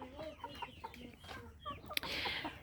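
Chickens cluck close by in quick, overlapping bursts, moderately loud, with a brief sharp sound near the end and no talk.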